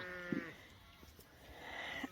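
Wiltshire Horn sheep eating salt and seaweed a month before weaning, with two short bleats, one early and one near the end, sounding fairly close over quiet outdoor background.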